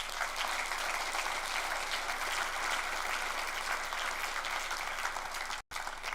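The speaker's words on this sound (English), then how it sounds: "So let's give David another round of applause for the amazing art he has." An audience at a TEDx talk event applauds a speaker with steady, dense clapping that fills the room for several seconds, broken by a brief cutout near the end.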